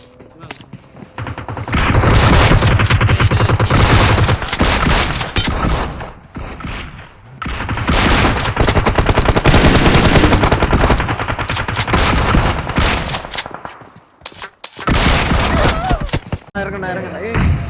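Rapid automatic gunfire from the BGMI battle royale game bursts loudly in long sustained volleys with brief gaps, while players talk over it.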